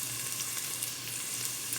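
Onions sizzle in hot cooking oil in a pan, a steady, soft crackling fry heard close up without voices.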